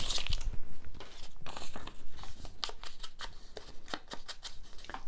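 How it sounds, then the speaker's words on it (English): Scissors snip repeatedly into a paper picture while making flower-fairy junk journal ephemera, a close run of crisp, irregular cuts and paper crinkling with no talking. "Whoops, and you can cut into the picture there."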